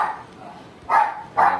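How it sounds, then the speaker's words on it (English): A dog barks twice, a second apart, somewhat distant, with a softer whine-like sound before the barks. "It's my dog in the background barking"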